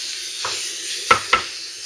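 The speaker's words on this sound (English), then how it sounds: "Chuck in the meat and give that a good break up" Minced meat frying in a pan, a bright continuous sizzle with a few short scraping knocks as the meat is broken up, close and loud.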